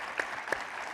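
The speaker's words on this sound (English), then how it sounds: "I'll clap for that." An audience at a fireside chat claps briefly, a short burst of applause with a couple of sharper distinct claps rising out of the crowd wash.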